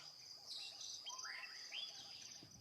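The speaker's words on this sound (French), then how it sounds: "On voit des perroquets youyou." Senegal parrots calling from baobab trees, faint distant rising whistles and chirps over a steady high insect drone, soft and continuous with no voices.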